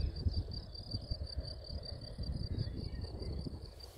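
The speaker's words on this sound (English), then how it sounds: "we have the nice sound of the grasshoppers" Dense, steady chirring of grasshoppers or crickets beside fields along the Moselle hiking trail, a continuous pulsing trill close by that carries on alone with no voices.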